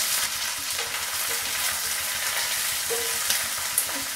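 Mustard seeds and curry leaves frying in hot oil for a Tamil mutton blood fry, a loud continuous sizzle with scattered pops and crackles throughout, no voices.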